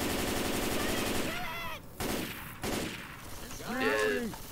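Bursts of rapid gunfire from Left 4 Dead 2 rattle in quick succession during a zombie fight, with players' voices breaking in between the volleys.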